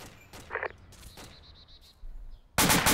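Gunfire in the military video game Arma 2, a few short bursts of shots crackling in a forest, fairly distant, with a louder burst at the end.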